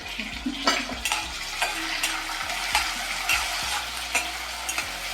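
Chopped onion and tomato sizzle in a pan as a utensil stirs them, with repeated scraping knocks against the metal and steady frying crackle, close and fairly loud.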